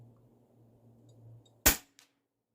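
A Stoeger XM1 Scout PCP air rifle fires a single sharp, loud crack outdoors, preceded by a faint low hum and followed by a brief soft tick.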